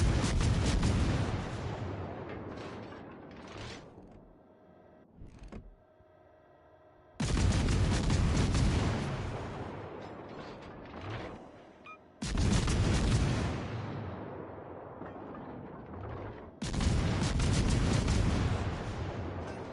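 Naval guns in World of Warships Legends fire heavy booming salvos, four loud blasts spaced several seconds apart, each with a long rumbling decay before the next shot.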